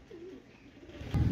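A racing pigeon, dazed after a 267 km homing flight, gives one soft, brief coo up close, followed by a louder burst of rustling and bumping at the end.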